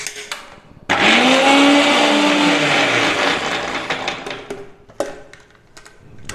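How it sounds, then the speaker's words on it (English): A kitchen blender grinds almonds with a little water for a vegan chocolate milkshake, starting abruptly with a loud, steady whirring roar that holds for several seconds, then winds down and stops with a brief clatter. "And we'll grind the almonds first."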